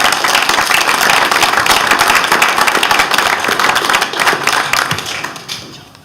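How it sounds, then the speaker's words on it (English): A room full of people at a community meeting claps steadily in sustained applause that gradually thins out toward the end. "a round of applause for everybody that worked on the subcommittees and for David and Cassie and Mary Chief"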